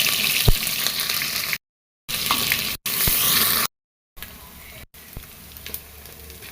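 Oil going into a pan for a water lily stem curry, a soft hiss and sizzle with faint watery clinks, cut by brief gaps of silence.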